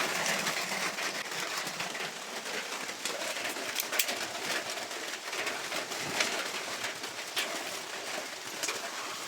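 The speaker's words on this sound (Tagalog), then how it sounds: "Yan ang lakas ng ulan, no?" Heavy rain pours steadily in a dense, constant hiss, with a bird cooing faintly amid the downpour.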